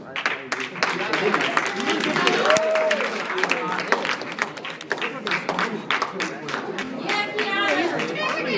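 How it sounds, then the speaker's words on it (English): Scattered, thin clapping from an audience at a school award ceremony for higher grade averages, mixed with crowd chatter and a voice talking over it. "you're getting a little weak in the clapping"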